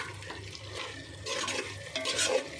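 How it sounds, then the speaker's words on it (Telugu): Ginger garlic paste frying in a pan, a soft sizzle with stirring scrapes that grow louder in short bursts toward the end. "అల్లం వెల్లుల్లి పేస్ట్ కూడా వేగనిద్దాం"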